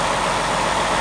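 A truck engine idles steadily with the hood popped open, a loud, close, continuous broadband rumble with no voices over it.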